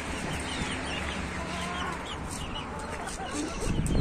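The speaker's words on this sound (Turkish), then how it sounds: "Bunlar horoz herhalde çoğunda." Chickens and roosters on a farm clucking steadily at close range, a dense layer of soft fowl calls throughout with a brief louder bump at the end.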